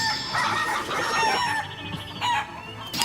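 Chickens in the video game Shenmue III cluck and squawk in a quick, busy flurry of close, loud calls, overlapping and continuing for a few seconds with no talking.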